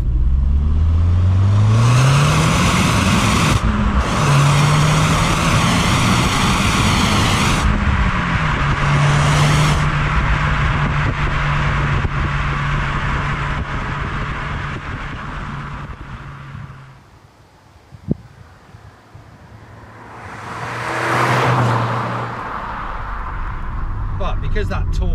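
Audi TT engine revving hard on the road, rising and falling pitch sweeps with strong low drone, loud and close, easing off then building again near the end, with talk likely mixed in.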